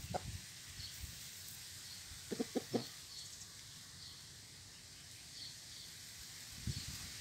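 A bantam fighting rooster makes a few quiet clucks: one early, a short cluster of three or four in the middle, and another near the end, faint against a steady outdoor hiss.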